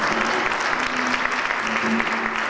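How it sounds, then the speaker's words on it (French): A church congregation claps steadily and densely throughout, with some faint voices mixed into the applause. "Nous parlons de votre applaudissement"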